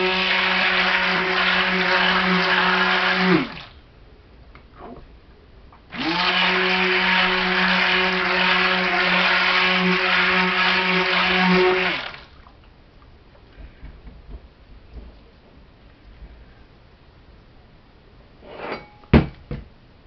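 Blender whirring through a kelp soap batter in two bursts, a steady motor drone for a few seconds, a pause, then a longer run of about six seconds, followed by faint clinks and handling noises.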